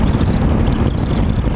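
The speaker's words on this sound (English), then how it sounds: "engine braking is very strong" Engine braking on a 2013 Honda F6B motorcycle: a loud, steady low rumble heavily mixed with wind buffeting, continuous throughout with no talking.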